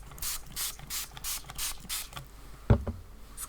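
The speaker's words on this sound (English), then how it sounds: "So if I give this a spray," A spray bottle mists a clear starch alternative onto paper in a series of soft, airy hisses, about six short bursts, followed by a brief clunk.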